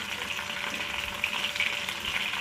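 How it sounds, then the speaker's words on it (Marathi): Hibiscus flowers fry in hot oil for homemade hair oil, a soft, steady bubbling sizzle close by, moderately quiet and unbroken, with no speech. "मस्त असं किती वेळेपर्यंत कडकडत तेलामध्ये चांगलं त्याला तळून घ्यायचं"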